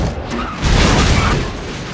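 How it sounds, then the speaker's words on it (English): A car in a film highway pileup hits a log and flips over, a loud dense crashing roar with impact booms and scraping, sustained and close with no talk. "A businesswoman named Kat also hits a log and her car flips over"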